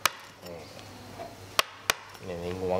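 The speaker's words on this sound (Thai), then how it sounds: "ถ้ามันเจาะไปครึ่งหนึ่ง ซิวแบนเล็กตัดลงไปเลยนะ" A small flat chisel strikes a wooden elephant's trunk during traditional Lampang woodcarving, three sharp taps spaced apart, close and crisp, while someone talks throughout.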